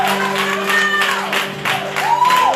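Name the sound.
congregation applause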